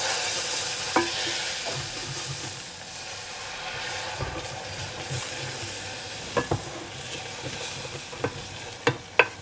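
Milk is gradually stirred into a sizzling butter-and-flour roux for béchamel, giving a steady close frying hiss broken by sharp utensil scrapes and clinks against the pan.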